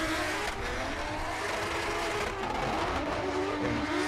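Race cars roar around the Orange Show Speedway track at the HOTPIT Autofest 2024 Round 4, with one car closely following another; a loud, continuous engine drone fills the whole stretch with no talking.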